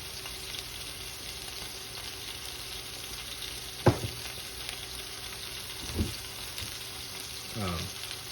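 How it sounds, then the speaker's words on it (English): Salisbury steak patties searing in a hot pan: a steady, even sizzle and frying hiss throughout, with a few brief clinks and scrapes of utensils, close and moderately loud with no talking. "we're just searing some color onto it, so we can give it a little bit more heat"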